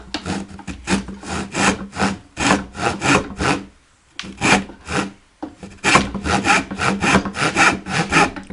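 Hand saw cutting through wood, a steady run of rasping back-and-forth strokes close up, with a short pause midway before the rhythmic sawing resumes.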